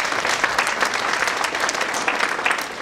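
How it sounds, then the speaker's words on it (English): Audience at a customer service talk breaking into a dense, sustained round of applause, loud and close, steady clapping with no break and no voices over it. "Let's give another round of applause"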